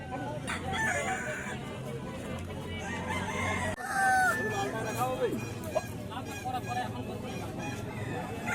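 A rooster, likely an Aseel fighting breed, crows and clucks at a village market, a few clear crowing calls and clucks over a steady hubbub of voices and crowd noise.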